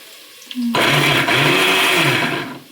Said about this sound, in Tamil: அடிச்சுக்கலாம் மிக்சியில்